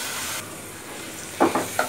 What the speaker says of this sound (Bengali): আর এখন ওই যে মিষ্টি কুমড়াগুলো আমি দিয়ে দিলাম, এগুলা দিয়ে ভালো করে কষাই নেব